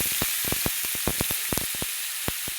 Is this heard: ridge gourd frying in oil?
yes